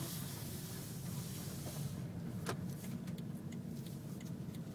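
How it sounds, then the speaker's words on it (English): A plug-in hybrid Toyota Prius moving on electric power alone, heard from inside the cabin as a quiet, steady low hum with soft road noise and a few faint clicks and rattles, with no talk. "I hear the electric motor only"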